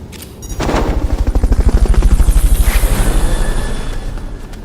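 A Fulton recovery helicopter in the video game Metal Gear Solid: Peace Walker, its rotor chopping in a steady, rapid pulse that swells to full loudness and then slowly tapers off, with no voices.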